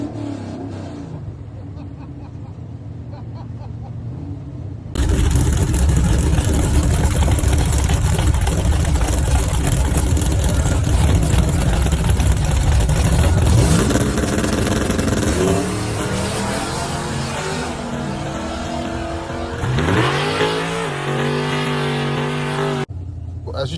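Bracket drag race car in a pro/no-box class launching off the line and accelerating hard down the track, a loud sustained engine roar lasting about ten seconds before fading as another engine revs up nearby.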